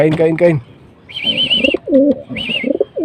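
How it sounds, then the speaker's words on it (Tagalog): Pigeons cooing close by in soft, rolling repeated calls, with a few higher chirps mixed in. "Nagugutom po siguro mga kapigeon, Magandang ibon din po yan"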